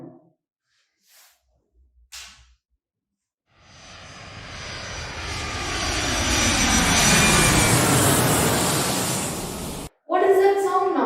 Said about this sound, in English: Oh, that is an aeroplane.